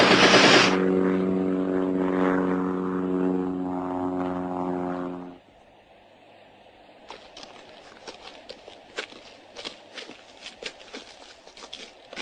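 Propeller-driven observation aircraft passing overhead, a droning engine with strong steady harmonics that loudens at the start and then fades out after about five seconds, followed by quieter scattered crackling sounds.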